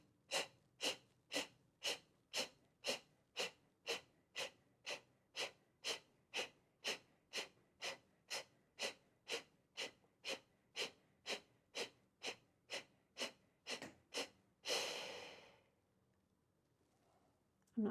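Rapid, forceful breaths during a yoga breathing exercise pulse in a steady, even rhythm of about thirty strokes, close and loud, ending with a longer exhale and then near silence.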